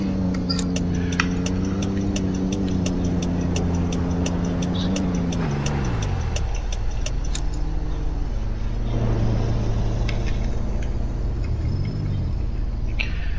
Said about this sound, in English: I'm driving a Ford F-150.